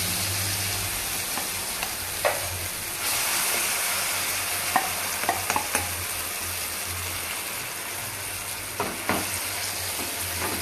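Mashed gongura and amaranth leaves are stirred through sizzling oil in a frying pan for a Chirala-style chutney, a steady loud fry broken by scattered spoon scrapes and clinks, with no talk.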